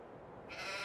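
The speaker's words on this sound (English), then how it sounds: "here are my sheep" Young farm sheep give a single close bleat that rises in the second half of a brief, quiet moment.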